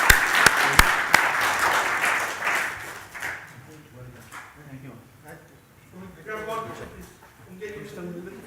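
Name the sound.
audience applause at awards dinner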